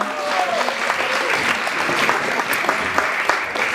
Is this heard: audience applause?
yes